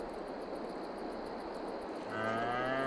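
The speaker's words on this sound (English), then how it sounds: "sure cows are getting a little hungry" Cows mooing in the farming video game Farming Simulator 22, a single low drawn-out moo entering near the end over a steady ambient hiss with faint insect-like chirping.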